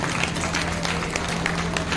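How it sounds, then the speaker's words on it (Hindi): Audience at a devotional Bhagavat katha gathering claps in a steady, fairly loud wash of applause with no talk over it. "जोरदार तालियां।"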